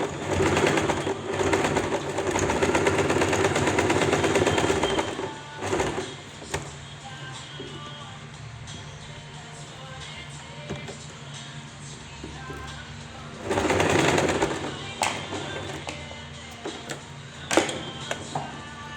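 Sewing machine stitching a reinforcement seam along a freshly cut fabric edge, two loud rapid whirring runs of stitching with a long quieter pause of small handling clicks between them.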